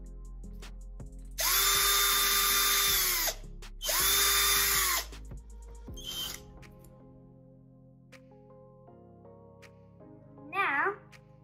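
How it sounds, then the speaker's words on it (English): A small power drill whirs in two close, loud bursts as it bores a hole into the fingertip of a homemade hydraulic robotic hand, followed by quieter handling noises and a brief chirp. "So I'm going to drill a hole at the top of the fingers."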